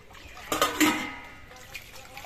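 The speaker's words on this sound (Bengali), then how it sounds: "চিড়েগুলোকে বেশ ভালো করে ধুয়ে নিতে হবে" Flattened rice (chira) is rinsed by hand in a bowl of water, giving a couple of brief, soft sloshing splashes close by before things settle to a quiet watery murmur.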